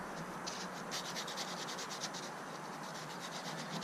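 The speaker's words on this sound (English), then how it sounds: "I just rolled up a piece of sandpaper, and I'm gonna just clean up the hinge a little bit." Rolled-up sandpaper scrubs the corroded door hinge on a Jeep Wrangler JK, giving a soft, quiet, continuous rasping in quick back-and-forth strokes, close by and with no talking.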